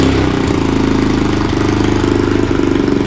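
A Boom Vader Grom clone motorcycle engine idles a little high on its first start, a steady close, loud mid-pitched thrum with even rapid firing pulses throughout and no voices.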